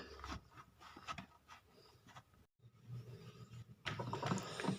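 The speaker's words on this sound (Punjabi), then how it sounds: "ਇਸ ਤਰ੍ਹਾਂ ਤੁਸੀਂ ਇਹਨੂੰ ਰਗੜ ਰਗੜ ਕੇ ਉਤਾਰਨਾ ਹੈ" Scrubbing burnt residue off the soleplate of a clothes iron with a scrubber, a repeated rasping rub in uneven strokes, close and moderately loud, with a brief gap midway before the rubbing grows stronger.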